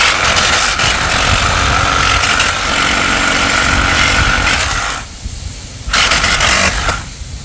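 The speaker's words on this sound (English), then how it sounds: "That's why I prefer Sawzall instead of a hammer, taking the nails out." A loud reciprocating saw buzzes and grinds steadily through pallet nails, then cuts out briefly twice before starting again; harsh, close and continuous.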